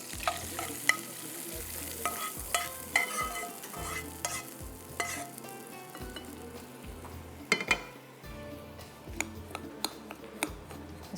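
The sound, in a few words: butter melting and being stirred in a pan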